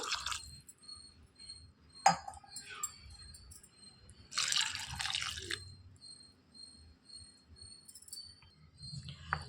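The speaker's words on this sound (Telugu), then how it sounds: "గ్లాసున్నర వాటర్ పోసుకోవాలి" Water poured from a glass onto basmati rice in a pot for Hyderabadi veg biryani, heard as a short, faint splashing pour among quiet drips and light clinks, with no talking.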